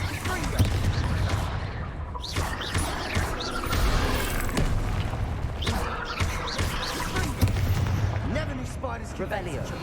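Confringo spell blasts in the Hogwarts Legacy video game, with repeated explosive bursts and crashes over a dense game soundtrack while a voice speaks throughout.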